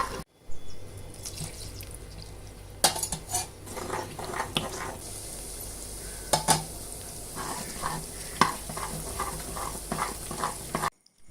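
Gram flour Mysore pak mixture being stirred in hot oil in a pan, with a steady sizzle underneath repeated scraping strokes of a spoon. The strokes are moderately loud and close.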